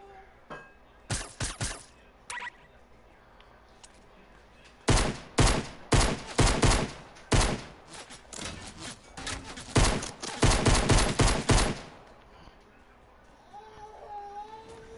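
Fortnite gunfire: bursts of rapid shots come in clusters, loud and close, with quieter gaps between volleys and players talking in between.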